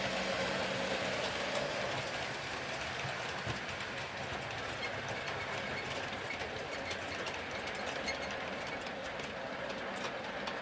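Lima Class 40 model locomotive hauling a down parcels train on a layout, a steady mechanical rolling whir with a thin squeaking running through it, continuous and fairly quiet.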